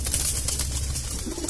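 Indian pigeons (kabootar) kept for sale give soft, low cooing in a short burst, close by with light background noise.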